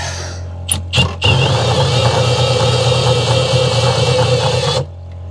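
A motor idles steadily with a low, even hum and drone after a couple of brief clunks, running close and loud for several seconds before cutting off abruptly near the end.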